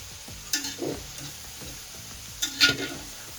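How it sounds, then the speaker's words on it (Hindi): Vegetables—potato, carrot, peas, turnip and capsicum—being stirred in a frying pan for Chinese-style biryani, with a few quiet scraping strokes and two brief louder clatters over a faint sizzle. "इसमें शामिल करेंगे आलू, गाजर, मटर, शलजम, शिमला मिर्च। अब इसको अच्छे से मिक्स करेंगे।"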